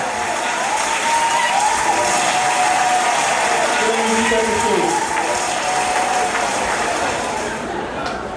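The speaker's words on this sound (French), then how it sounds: "Est-ce qu'on peut applaudir, s'il vous plaît?" A gala audience applauding, a dense, steady roar of clapping from a large crowd that fills the room, with a few cheers and a voice speaking over it.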